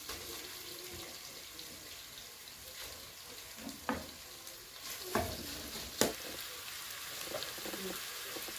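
Spices, dill seed and cinnamon among them, fry and are stirred in a slightly rusty pan, giving a low steady sizzle with a few sharp scraping clacks of the stirring spoon, close and fairly quiet, with no talk.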